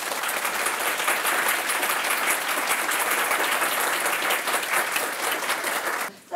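A large audience at a university public lecture applauds the panelists in a dense, loud, sustained burst of many hands clapping together, cutting off abruptly at the end.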